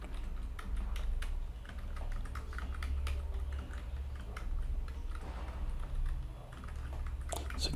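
Keys on a computer keyboard click in quick, uneven bursts as a password is typed, a close, fairly quiet tapping over a steady low hum.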